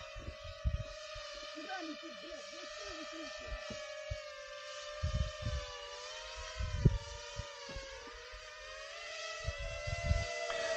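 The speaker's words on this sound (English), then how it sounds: "just the sounds of drones must give you the heebie-jeebies the whole time" A recording of a military drone over the Ukrainian front line plays through speakers. It makes a steady, high, whining buzz that runs unbroken throughout, while people talk over it.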